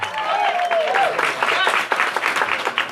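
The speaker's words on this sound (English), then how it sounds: "Keep it going, folks. One more round of applause for Emily," Dense audience applause for contestant Emily at a live singing show, loud and continuous throughout, with a voice calling out over the clapping.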